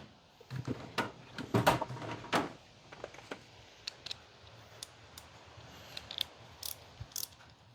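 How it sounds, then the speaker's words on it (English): A small ratchet wrench working on a Craftsman 5.0 hp 2-stroke snowblower, giving close, irregular bursts of clicking and metallic ticks with a few louder clanks and quiet pauses between them. "To get a tiny ratchet for this one."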